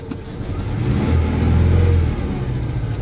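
Zaporozhets ZAZ 968 engine droning steadily from inside the car while driving, a low rumble that swells slightly in the middle and holds, with no talk.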